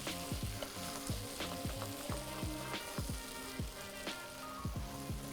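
Sausage sizzling and crackling in a hot pan while being cooked down for a ragu, a steady loud fry with frequent sharp pops and spits over a continuous hiss, no voices.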